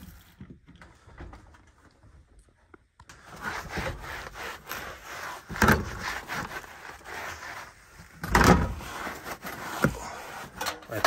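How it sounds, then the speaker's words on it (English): A cloth wipes down the door of an air conditioning unit during maintenance. The rubbing strokes are close and repeated, with a few louder swipes, after a quiet start. "I'm going to wipe the other door down."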